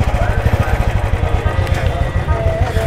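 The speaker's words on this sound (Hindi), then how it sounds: "बाइक स्टार्ट कर ली है।" A motorcycle sits idling outside the Paonta Sahib Gurudwara in Himachal Pradesh, its engine throbbing with a steady, rapid, even beat, loud and close, holding the same rhythm for the whole stretch.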